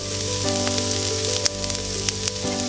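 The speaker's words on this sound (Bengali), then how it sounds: "ওই তেলে দিয়ে দিব জিরা ফোড়ন এরপর দিয়ে দিব কুচি করে রাখা পেঁয়াজগুলো" Cumin seeds and chopped onions sizzle steadily in hot oil left from frying rohu fish, a dense continuous crackle with a few sharper pops and spatters, close and fairly loud with no talking.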